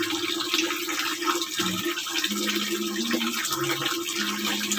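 Running water from a tap while laundry is washed by hand, a steady splashing hiss with shifting low tones as the flow changes, continuous throughout with no talk.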